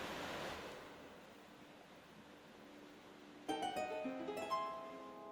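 Water rushes out in Zelda: Skyward Sword HD, a steady surf-like wash in Skyview Temple, followed by a bright chiming jingle of game music near the end.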